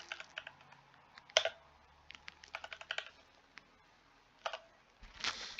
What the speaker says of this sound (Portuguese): Vou digitar a cor